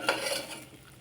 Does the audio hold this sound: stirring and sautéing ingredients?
yes